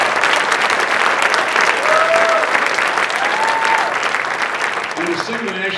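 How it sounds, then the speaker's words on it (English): A school student recognition program audience breaks into loud, sustained applause after a middle school singer's national anthem, with cheers and whoops rising over the clapping and a voice speaking as it fades at the end. "how about a round of applause for Victoria?"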